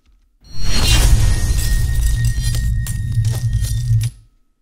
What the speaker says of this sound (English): I'm going to take the debris slow motion 5 and just drag it right inside of the timeline.